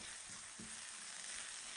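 Vegetables softening in a pan for a vegan faux gras pâté, giving a steady, quiet broadband sizzle and fry hiss throughout, with a couple of soft clinks from stirring underneath.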